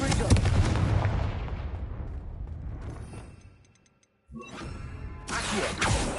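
In the wizarding game Hogwarts Legacy, a Confringo blasting spell lands with a loud, booming explosion that rumbles and fades away. After a short silence comes a sharp crack and renewed crackling blasts.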